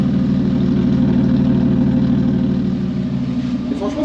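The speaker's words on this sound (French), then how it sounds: "La petite ligne d'échappement inox, ça résonne plutôt pas mal" A Renault 5 Taxi car idles through a small stainless steel exhaust line, giving a loud, steady, resonant low rumble that holds evenly throughout with no voices.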